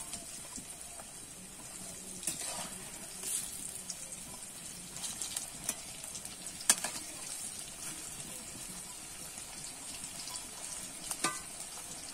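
Prawn fritters (chingri bora) frying in hot oil give a continuous soft sizzle and crackle, with scattered sharper pops and a few clinks of a utensil turning them.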